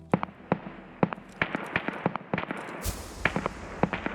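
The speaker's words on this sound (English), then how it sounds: "then I did hear these shots going down towards Fortress" A steady string of sharp gunshot cracks from somewhere off in the distance during an Escape from Tarkov raid, irregularly spaced single reports, fairly loud, with no talking.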